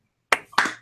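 Two sharp hand claps, close and slightly uneven, a slow off-beat clap from a small group in an indoor talk show setting, with no speech.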